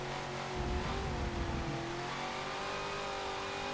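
Race car engine revs hard in Forza Motorsport 7, a steady rising whine with tire spin at a wet track, fairly faint and continuous with a brief rumbling surge near the start.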